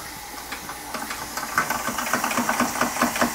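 An Empire B-43 model steam engine, fitted with a hand pump and an electric heating element, runs on steam with a rhythmic chuffing and hissing beat that grows louder and steadier, close by.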